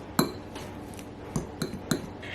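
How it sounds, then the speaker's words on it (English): A fork works a crumbly keto cheesecake crust around a bowl, giving four sharp, close metallic clinks against the bowl at uneven intervals over a soft scraping hush, with no talk. "instead of using a whisk, I just use a fork to sort of incorporate all this together to get it a nice crumbly crust"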